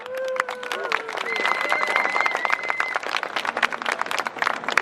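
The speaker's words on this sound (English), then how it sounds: "Round of applause for everyone here." Crowd applause and cheering ring out at an anti-fur street march in London, with claps spread across the outdoor gathering while whistles and voices rise over them.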